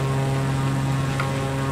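A stunt plane's propeller engine in Microsoft Flight Simulator 2020, flying over the Daytona International Speedway, drones steadily at a constant pitch with no voices.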